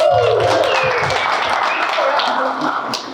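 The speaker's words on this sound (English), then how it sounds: "So I wanna clap it up for Danny and West Capital, thank you." Audience applause at a brokerage grand opening, a short burst of clapping from a crowd that thins toward the end, mixed with a voice and room chatter.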